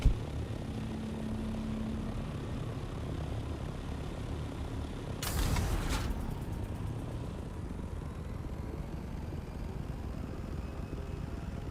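An aircraft flies across the sands in the video game Dune Awakening, its engine a steady broadband roar throughout, with a sharp louder swoosh midway, continuous and fairly close with no talking.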